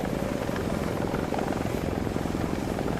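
A video game helicopter drones steadily and close, with rapid rotor chopping over a constant engine whine, alone and unchanging throughout.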